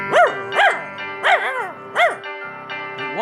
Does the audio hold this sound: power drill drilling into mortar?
no